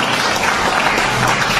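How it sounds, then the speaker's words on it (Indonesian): Audience applause at a church sermon, a dense, loud burst of many hands clapping steadily and close, filling the space alone without speech. "ya tepuk tangan buat Tuhan Yesus."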